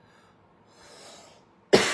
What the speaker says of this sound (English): I'm coughing because I'm talking a lot